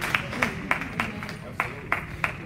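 A church congregation claps along in a steady rhythm, about eight sharp hand claps spaced evenly over a couple of seconds, moderately loud over a busy room with voices mixed underneath.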